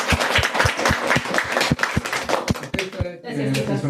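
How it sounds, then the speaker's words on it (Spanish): Applause from a small group in a classroom, a run of sharp, fairly regular claps that stops abruptly, followed by voices talking. "aplauso."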